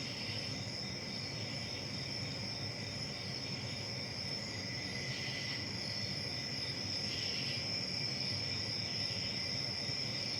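Continuous high-pitched crickets chirping, a steady dense trill over a quiet night ambience, with no voices.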